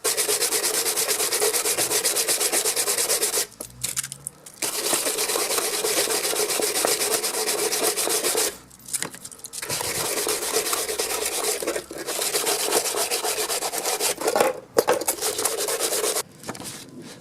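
Hand sanding of a Suzuki Bandit motorcycle dash light with 80 grit sandpaper, a loud close abrasive rasping in long continuous strokes, broken by a few short pauses.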